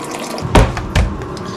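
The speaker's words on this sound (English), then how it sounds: "I'm just gonna fill my fancy Stanley up with water" Tap water runs into a Stanley tumbler, a steady splashing stream with a couple of louder gushes as the flow shifts, close by and with no talking.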